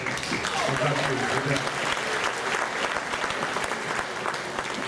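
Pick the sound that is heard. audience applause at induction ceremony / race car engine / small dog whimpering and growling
audience applause at induction ceremony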